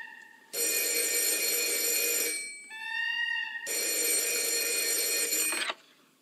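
A telephone bell rings loudly in a film scene: two long, bright rings separated by a short pause, with no voices over them.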